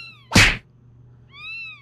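A domestic cat meows twice, near and clear, with a short thump between the calls and a faint low hum underneath.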